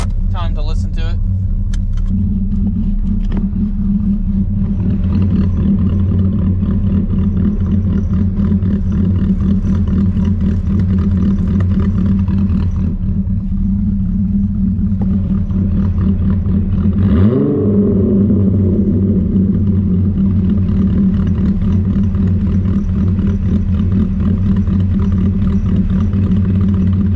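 A 12-valve VR6 engine with Techtonics 288 camshafts, swapped into an MK2, idles with a loud steady rumble close by, swelling into one short rev near the middle before settling back. Someone talks over it.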